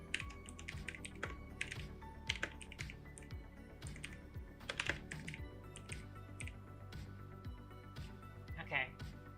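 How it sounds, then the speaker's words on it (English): Computer keyboard typed on during game development work, a close run of quick irregular key clicks and clatters throughout, with someone talking over the typing. "I should have been watching my screen instead of what I was typing."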